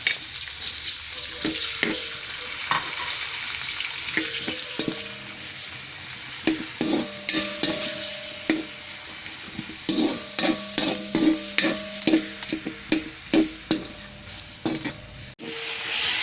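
Onion, garlic and ginger paste frying for a Sri Lankan prawn biryani, a steady close sizzle with intermittent scraping and stirring clatter of a utensil against the pan, growing busier toward the end.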